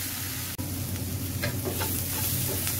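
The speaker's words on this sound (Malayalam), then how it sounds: "ഈ സവാള ഒരു 5 മിനിറ്റ് ഒന്ന് വഴറ്റിയാൽ മതി" Onions sautéing in a pan for fish chukka, a soft continuous sizzle broken by a sharp clink and a few scraping stirs, quiet and close with no talk.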